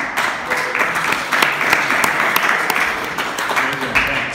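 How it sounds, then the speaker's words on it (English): An audience claps for a speaker at a startup founders' talk on offshore development teams, with a loud, full, sustained round of applause and some voices mixed in beneath it. "big round of applause for Josh."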